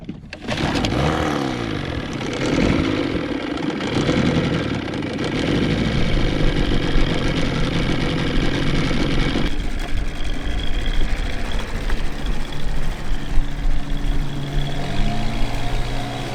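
Outboard engine on a dinghy running steadily, suspected earlier of a carburetor problem; continuous loud close drone with a shift in tone partway through.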